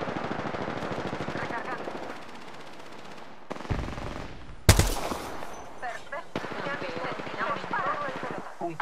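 Automatic weapon fire in the battle royale game Apex Legends, rapid bursts with a few louder single shots, sometimes with game voice lines.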